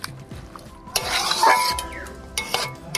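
Bottle gourd, potato and egg with green chilies, tomato and a pinch of sugar are stirred and sautéed in a pan, with metal clinks and scrapes over a moderate sizzle that swells in the middle.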